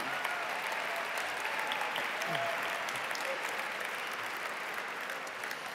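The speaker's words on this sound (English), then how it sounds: "A big round of applause for Mindy and John." Sustained applause from a large audience at a gala benefit, steady dense clapping filling the whole stretch without pause, moderately loud and even throughout.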